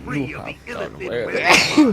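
A single sharp sneeze bursts out partway through, loud and close, surrounded by ongoing speech from a co-op Baldur's Gate 2 play session.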